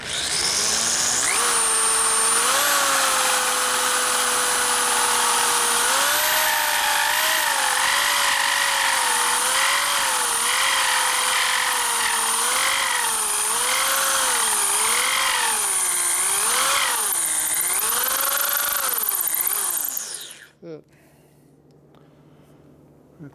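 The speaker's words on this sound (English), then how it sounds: "as long as the drill motor's straight, the dowel pin will be straight" A drill motor bores into a 1957 Harley panhead cylinder head for a dowel pin, a loud, close, high whine that wavers in pitch with the load for about twenty seconds before spinning down and stopping.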